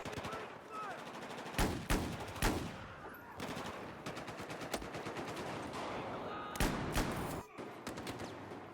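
Rapid automatic gunfire from a weapon in the Battlefield 4 video game, loud bursts of shots crackling in quick succession, broken by brief pauses and a few isolated heavy reports, with faint voices beneath.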